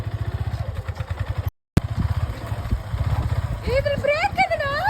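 A motorcycle being ridden, its engine chugging in a steady pulsing rhythm close by, briefly cut out, then returning while a voice speaks over it toward the end.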